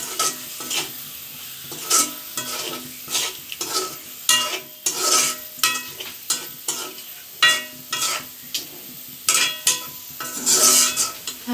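Magur fish curry frying in a pan while it is stirred: a close, steady sizzle cut by rhythmic scraping and clinking strokes that repeat every second or so.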